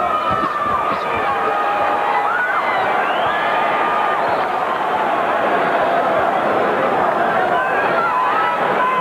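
A boxing crowd at a WBC light heavyweight title fight between Roy Jones Jr and Mike McCallum roars and cheers steadily at a flurry of power shots, a dense, loud arena swell with shouts and whistles throughout.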